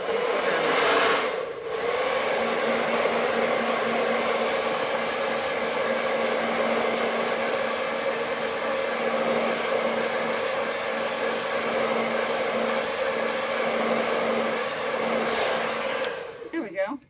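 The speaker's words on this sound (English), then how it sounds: "I have Colin's blow dryer." A blow dryer whirs loudly and steadily close by with a constant high-pitched whine, running for a long stretch before switching off.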